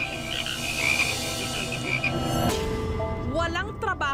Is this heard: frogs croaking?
yes